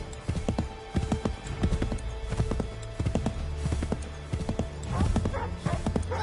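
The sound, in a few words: horse hooves clip-clop while riding, Assassin's Creed 3 video game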